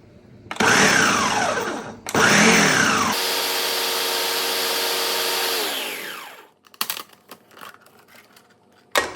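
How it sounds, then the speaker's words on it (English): A food processor blending a low-carb cheesecake mixture runs in two short loud pulses, then a longer steady whir that winds down, followed by a few scattered clatters and knocks. "I'm going to put the food processor on power and then pulse. It's going to be a little noisy."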